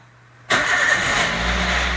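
A Toyota Avanza with a manual transmission starts up from silence with a sudden loud catch. It settles straight into a steady, close idle that is heard from inside the car.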